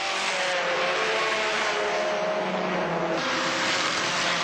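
Race car engines at the 1981 Bathurst race on the mountain circuit, a sustained loud engine roar downshifting through the gears, with broadband noise throughout and no pause.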